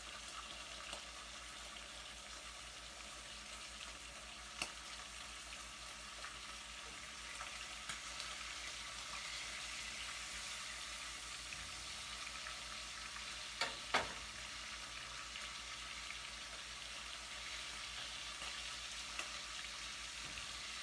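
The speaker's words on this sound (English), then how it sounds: "I want to fry up" Bacon frying in a pan, a steady, fairly quiet sizzle and crackle that runs the whole time, with a few sharp pops and clinks near the middle and no talking.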